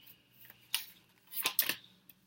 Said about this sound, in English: I'm shuffling the cards a little differently as I've been doing the last little while